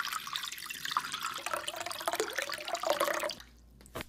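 Water sloshing and trickling in a small container as a gummy candy is dropped in, a busy close splashing and dripping texture that stops abruptly near the end, leaving near silence.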